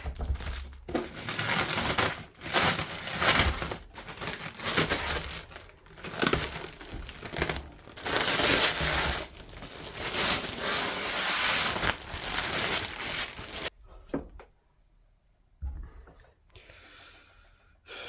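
Crinkly plastic bag packaging being pulled open and unwrapped from a Philips HD9243/90 3000 Series airfryer, loud continuous rustling and crumpling for most of the clip, then dropping to quieter sparse handling near the end.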